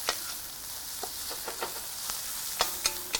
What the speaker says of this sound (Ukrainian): на большій температурі поджарюємо овочі